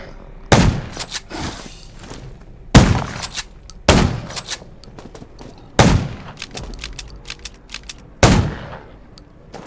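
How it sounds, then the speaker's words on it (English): Gunfire in the zombie-survival game Undawn: five loud, sharp shot bursts spaced a second or two apart, each followed by a brief rattling tail, with no talk in between. "Gunshots will attract more."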